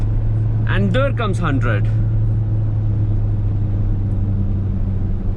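A 2021 Jeep Compass automatic pulls away from a 2000 RPM launch in first gear. Its engine and road noise make a steady low drone, with someone talking over the first two seconds.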